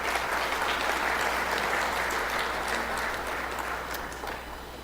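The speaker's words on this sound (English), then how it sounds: "Can I get a round of applause for him, please?" Audience applause at the ATC 2015 conference welcome address, a steady wash of clapping that holds for about five seconds and then fades slightly toward the end.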